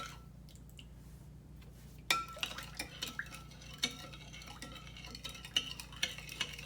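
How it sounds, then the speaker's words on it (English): A spoon stirs carrot, ginger and lime juice with a drop of vanilla extract, clinking lightly against the glass or jug in a loose run of small taps and swishes after a quiet start, with no talk. "And we're gonna stir it."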